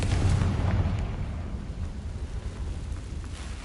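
A Confringo explosion spell goes off in a Harry Potter video game, a deep rumbling blast that starts loud and slowly fades into a low sustained roar.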